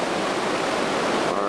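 A roaring mountain river in New Zealand, fed by snow-capped peaks and running clear over rounded rocks, gives a steady, loud, broadband rush without break.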